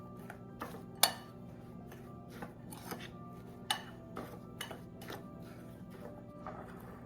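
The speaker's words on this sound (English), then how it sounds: "Let's give this all a nice mix." Chopped curry leaves, green chillies and cilantro get stirred in a bowl, making irregular clinks and scrapes of a spoon against the dish, with a few sharper knocks over a quiet background.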